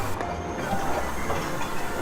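A train stands at a station on Sri Lanka's highland railway, giving off a continuous rumble and hiss with faint clanking, fairly loud and close, with no talking.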